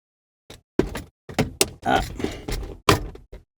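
A compact fire extinguisher snaps into its existing wall mount, making a series of sharp plastic thunks and clicks in close succession in a quiet room.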